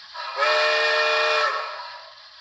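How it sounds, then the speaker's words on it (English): Long steam whistle from the sound decoder of an Athearn 2-6-0 Mogul model locomotive, a single loud, sustained chime-like blast that swells in, holds for about a second, then fades out alone. "F2 is the long whistle."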